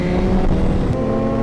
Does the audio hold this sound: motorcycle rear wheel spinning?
yes